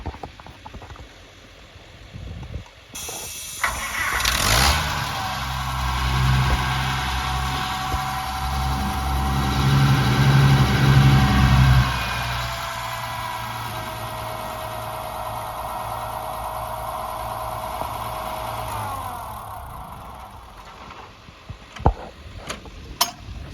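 An antique tractor engine cranks and catches, then settles into a steady, loud chugging idle for over fifteen seconds before shutting down, with a few clicks at the end.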